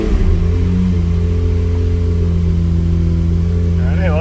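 Toyota MR2 with a 2GR V6 engine running with a steady low hum and a rev climbing near the end, heard close inside a garage.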